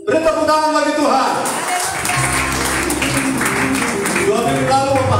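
Church congregation clapping and applauding, a broad wash of claps building over a few seconds after a voice speaks, then continuing steadily with some voices mixed in.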